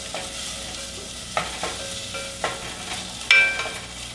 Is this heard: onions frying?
yes